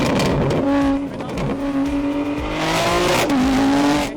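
A car with a modified exhaust accelerates hard, its engine note climbing loud and close through repeated revs and gear changes with a raspy, droning tone.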